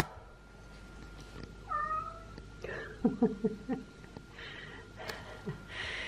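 A domestic cat meows close by indoors: one drawn-out, rising meow, then a short burst of quick, softer cries and snuffles, over a low room hum.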